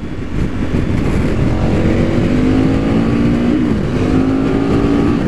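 A KTM 1290 Super Adventure T motorcycle accelerates hard at speed, its engine droning loud and close with a steady roar that rises in pitch, dips briefly and climbs again under rushing wind.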